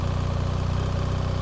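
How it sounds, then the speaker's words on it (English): A BMW R 1300 GS Adventure motorcycle engine runs at a steady, close idle, its low rhythmic pulsing throb even and unbroken. "So I'll turn the engine on, select the correct setting."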